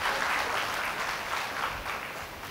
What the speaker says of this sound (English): look at the applause you got